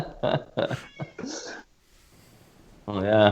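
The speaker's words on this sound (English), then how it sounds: "there's your kittens" Kittens meow in several short, close, insistent cries, then fall quiet before a longer, louder meow at the end, with faint background noise between.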